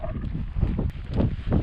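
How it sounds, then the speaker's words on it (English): Strong wind gusts buffet the microphone on a hilltop in Azerbaijan, coming as low rumbling bursts of wind noise that rise and fall with no speech. "it's super windy up here"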